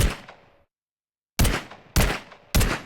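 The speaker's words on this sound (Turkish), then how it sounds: "TX-02 hafif makineli tüfek seviye 10 ses efekti." Sharp, punchy shots from the level 10 TX-02 submachine gun in Glory Frontline ring out alone. One shot rings out and decays, and after a silent gap three more shots follow at an even pace.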